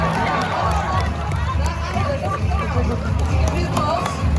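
Crowd at the Animal Actors stage show at Universal Studios Hollywood cheers and murmurs in a steady outdoor babble, with a presenter's voice over it.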